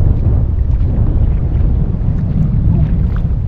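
Strong wind blowing at sea from a fishing boat near rocky waters, a steady loud low rumble and buffeting across the microphone throughout, with no voices.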